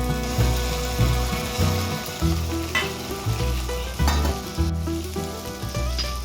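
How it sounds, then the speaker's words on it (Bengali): Spice paste of turmeric, poppy seed and mustard frying in a pan over low heat, a steady close sizzle pulsing with regular stirring strokes, no voices. "এবার মশলাটাকে ভালোভাবে কষিয়ে নেব, ওই লোয়াতেই হবে।"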